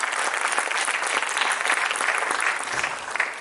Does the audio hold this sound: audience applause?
yes